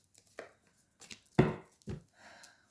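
A deck of tarot cards is cut and handled, giving a few sharp riffles and slaps close up, spaced apart in short bursts.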